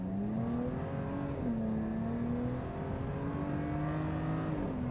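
A 2011 BMW 335is convertible accelerates hard along a runway, its engine droning close and steady as it climbs through the gears, with a brief dip at a shift and a continuous rising hum beneath the wind and road noise.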